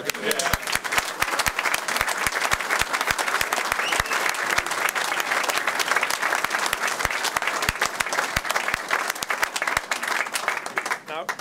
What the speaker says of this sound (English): We would like you all to give a huge round of applause to everyone who's made it possible.